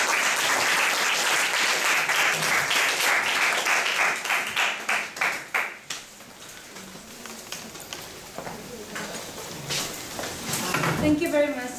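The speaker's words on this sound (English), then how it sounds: "Let's please give our speaker one more round of applause." Audience applause fills a talk's Q&A session, loud and dense for the first several seconds, then thinning into scattered claps and room noise with some voices and clatter.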